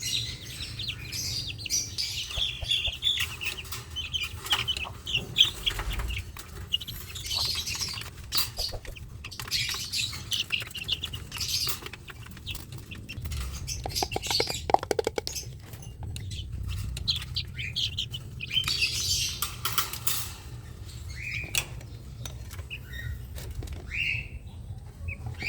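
Chickens and other birds feed together, a busy mix of chirps, tweets and soft clucks over scratching and pecking, with flurries of wing flaps, close and continuous at a moderate level.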